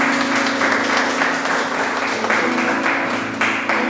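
Church congregation clapping loudly for the Lord during an evening service, a dense continuous burst of many hands with music or a sustained tone running underneath.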